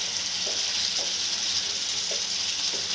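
Liver fries on a tawa over high heat with a constant bright sizzle, punctuated by a few soft stirring scrapes.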